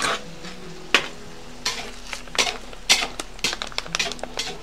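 A utensil stirs shakshuka with paprika, tomatoes and sausages in a skillet over a campfire, giving repeated scraping strokes against the pan over a soft sizzle, close and moderately loud.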